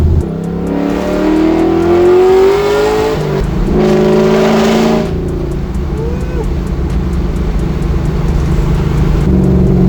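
LS3-powered 1969 Camaro, its engine revving up close and loud with rising and falling pitch, then settling into a rough, throaty idle, with a voice briefly heard over it.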